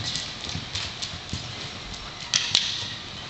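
Horse hooves clip-clop steadily on a trail ride, a close, regular walking rhythm with a couple of sharper knocks, and faint voices nearby.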